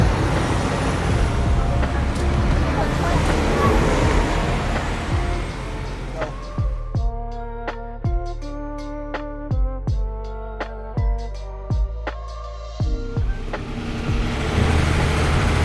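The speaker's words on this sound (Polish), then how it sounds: "Najtańszy środek transportu w Bangkoku, czyli lokalny autobus." Local city bus with wooden floors moving through Bangkok traffic, a steady rumbling road and engine noise that gives way midway to a melodic series of chime-like tones before the rumble returns.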